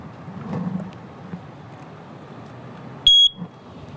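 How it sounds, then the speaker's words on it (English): A single short, shrill electronic beep from a 10-year smoke alarm cuts through a quiet room hum near the end. "if this alarm goes off,"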